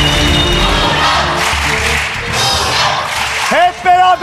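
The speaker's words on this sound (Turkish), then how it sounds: "Lütfen bir alkış." A studio audience on a game show claps and cheers loudly for several seconds before a voice cuts in at the end.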